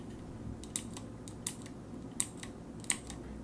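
Cherry MX Green mechanical keyboard switches click four times at a slow, even pace. The crisp clacks sound close over a soft background hiss.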